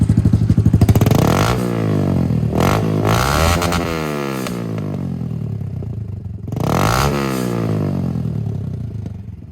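Honda CRF110 motorcycle fitted with a BBR D3 exhaust and stock head, cam and piston, revving hard in repeated loud bursts with rising and falling engine pitch, close up and with no talking.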